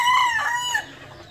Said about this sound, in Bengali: এগুলো সম্পূর্ণ ডিম পাড়া মুরগি সবগুলো